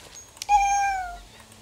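A single clear, drawn-out cat meow from a pet cat in the horse-riding video game Star Stable, close and tonal, rising then fading over about a second with no speech over it.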